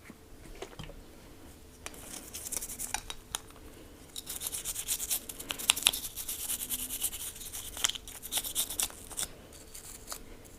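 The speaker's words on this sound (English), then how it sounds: "next I'm going to oil up the mag assembly and the trigger guard" Light rubbing, scraping and faint clicking from oiling the magazine assembly and trigger guard of a Weatherby Vanguard rifle, close and quiet, with small handling sounds and no speech.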